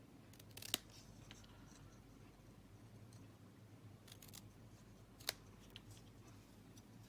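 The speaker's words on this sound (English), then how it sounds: "I'm just going to cut up to the middle" Scissors cut paper in a papercraft session, with a couple of faint, isolated crisp snips against quiet room noise.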